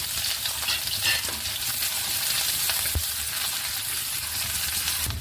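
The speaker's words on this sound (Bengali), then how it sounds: "তেলে কালো দিয়ে ফোড়ন দিয়ে কুচো করে রাখা পেঁয়াজ লঙ্কাটা দিয়ে একটু ভেজে নেব" Chopped onion and green chilli frying in hot oil with nigella seeds, a dense, steady close-up sizzle with occasional stirring clicks and no talk.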